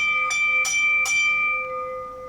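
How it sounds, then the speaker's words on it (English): A bell is struck three times in steady succession, each clang ringing into a sustained shimmering tone that slowly fades. "this is the ringing of a bell"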